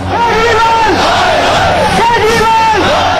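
A large crowd of party workers marching toward the Delhi chief minister's residence in protest against Kejriwal, chanting slogans in loud rhythmic unison, repeating in waves, close and continuous.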